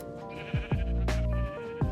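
Sheep in Minecraft let out several distinct bleats, some overlapping, each a short wavering call heard clearly and up close, with no talking.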